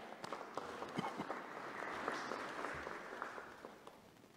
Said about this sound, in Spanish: Un aplauso para usted, Padre Fidel.